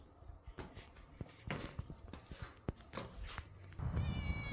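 A cat near a church on a walking route gives a short meow toward the end, heard close over scattered footsteps and light outdoor shuffling noise, with no talking.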